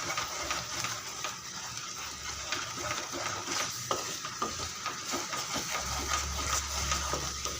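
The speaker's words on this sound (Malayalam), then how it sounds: "വിടാതെ ഇളക്കിക്കൊണ്ടിരിക്കുക." Strawberry jam being stirred constantly in a non-stick pan, a soft bubbling simmer with repeated scraping strokes of the spoon, fairly quiet and steady with no talk.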